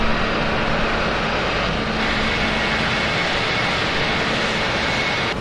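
Big jet airliners at Los Rodeos Airport in Tenerife, a loud sustained engine roar and broad rushing whine that holds steady throughout, close by and with no voices.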